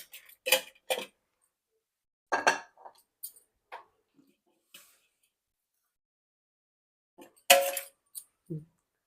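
Sparse metallic clinks and scrapes as roasted ingredients for an Ayurvedic nalleru (vajravalli) chutney are moved from a pan into a mixer jar, a few brief isolated taps separated by silence.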